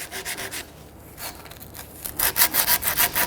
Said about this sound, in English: We ended up using some 80 grit sandpaper here